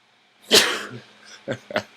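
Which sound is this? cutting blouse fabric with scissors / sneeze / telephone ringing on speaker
sneeze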